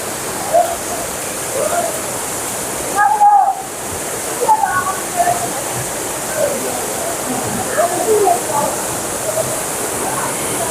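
Waterfall at Kumbavurutty pouring steadily into a bathing pool, a constant broadband rush with occasional splashes, voices of bathers chattering over the flow.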